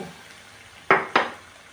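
Two quick metallic scrapes of a utensil in a wok, close and sharp, as catfish is stir-fried, over a steady low background hiss.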